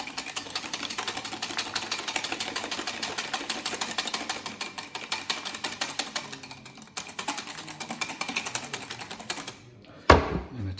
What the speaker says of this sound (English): And I'm going to whisk again.